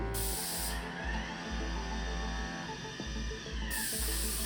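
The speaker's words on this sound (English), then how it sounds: "it will stop painting and then start again when it reaches the wall." A robotic paint sprayer coating a wall, giving bursts of pressurized hissing spray that cut out and resume in a stop-start rhythm over a low mechanical hum.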